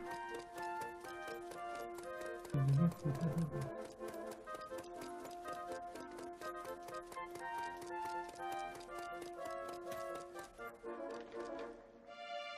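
In Dragon Quest Heroes II, a horse's hooves clip-clop in a brisk, even rhythm throughout, crisp close taps layered over soft background music with a brief louder thump partway through.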